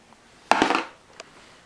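A single die from a board game is rolled across a surface, giving one brief clattering tumble up close, then a faint small tap as it settles.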